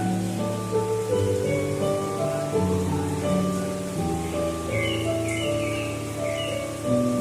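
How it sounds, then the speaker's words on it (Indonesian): Soft continuous rain patters beneath slow, sustained instrumental music, the wash of falling water staying even and unbroken with no voices. "air hujan yang turun secara nyata."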